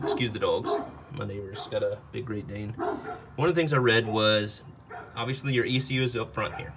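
A large Great Dane barks repeatedly in the background, its deep, booming barks coming in loud bursts and mixing with someone talking nearby in a garage.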